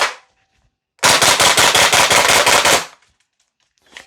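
A VFC Umarex HK UMP .45 gas blowback airsoft rifle fires one loud, rapid string of sharp cracking shots lasting nearly two seconds, then stops abruptly, with a faint click afterward.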